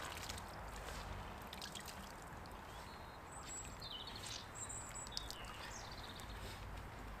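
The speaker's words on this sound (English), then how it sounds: "the cloth's in here, and if you wring it out," A wet microfibre drying towel is wrung out over a bucket of hot water, giving a faint trickle and drip of water running back into the bucket. Chirping birds sound faintly in the background.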